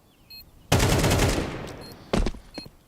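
A burst of automatic gunfire in Counter-Strike 2, loud and close, rattles for over a second and fades, then a second short volley follows, with commentators talking faintly.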